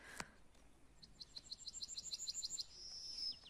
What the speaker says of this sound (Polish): Ptaszki pięknie śpiewają